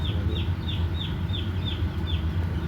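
Chickens in a poultry shed after their feeders have been filled give short, repeated cluck-like calls about every half second over a steady low hum.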